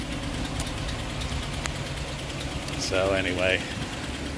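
A carbureted engine idles steadily after a tune-up and starter replacement, running a little rich, with a continuous low rumble throughout and a brief spoken phrase near the end.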